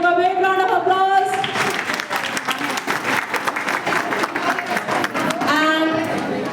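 An audience applauds a quiz winner at a women's day celebration, loud sustained clapping filling the hall and swelling again near the end, with voices speaking over it at the start and finish.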